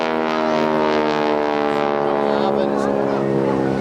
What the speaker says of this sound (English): That noise you hear, the Harvard barking pool, is the very tip-top of the propeller going supersonic